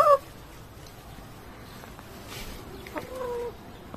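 Brahma chickens at a small poultry farm give a short, clear cluck right at the start, then a few fainter clucks and calls around the three-second mark over quiet background noise.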